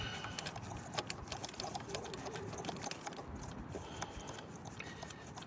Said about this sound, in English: Okay, I'm going to torque these bolts to 7 foot-pounds.